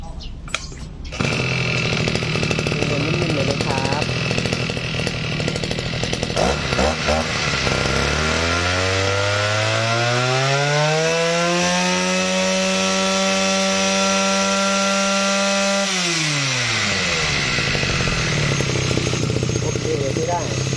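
A small two-stroke engine on a secondhand Japanese Robin NB31 brush cutter is pulled to life, then revs up high and holds a steady whine for several seconds before dropping back to idle.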